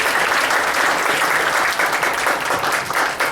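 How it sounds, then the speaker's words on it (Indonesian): Steady, loud audience applause for Bu Erni at an insurance event, a dense wash of many hands clapping throughout with no break. "Boleh kita kasih tepuk tangan ya buat"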